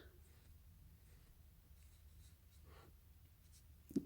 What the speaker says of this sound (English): so you put the color on paper first like this